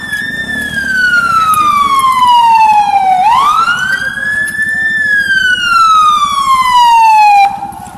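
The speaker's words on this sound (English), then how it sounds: "An ambulance is trying to pass. It's going to be quite loud" A loud wailing ambulance siren sweeps down and up in long, slow cycles as it passes close by on a downtown Beirut street, with traffic noise beneath.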